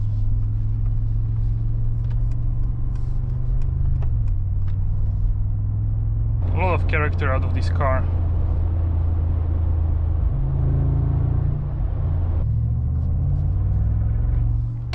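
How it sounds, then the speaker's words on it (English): A 2025 Mercedes-AMG G63's deep V8 rumble throbs steadily up close in comfort mode, its low tone shifting as the SUV moves off, while someone speaks briefly over it. "When I start to move, it has a really loud rumble, even in comfort mode."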